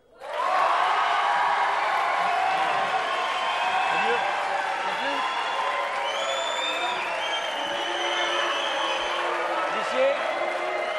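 A radio-crochet talent contest audience applauding loudly for a contestant, sustained dense clapping with a few whoops rising from the start and holding steady to the end.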